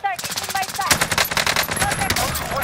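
Rapid automatic gunfire rings out in the Call of Duty: Modern Warfare video game, a dense burst of closely spaced shots with game sound effects, loud and continuous through the moment.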